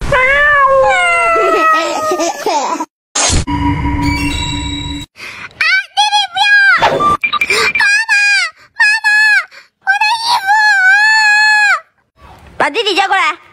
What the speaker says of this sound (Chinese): 小猫咪们快来吃饭了